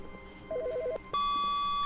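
A telephone in The Stanley Parable video game rings with a brief warbling electronic trill, followed by a steady tone over a quiet background hum.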